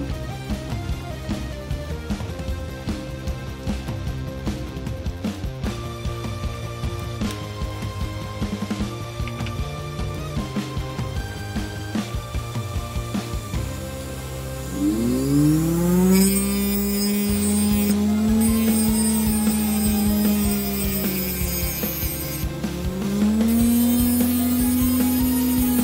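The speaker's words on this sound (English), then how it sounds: "I can also use a flap disc for a more gentle grinding." A homemade grinder built from a washing machine universal motor, running with a flap disc: a whining motor tone rises partway through and holds with shifting pitch over a busy, tonal background, with no talking.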